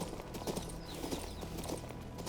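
A horse's hooves gallop in a quick, steady clip-clop rhythm in the fantasy video game King's Bounty II, fairly faint against a low background hum.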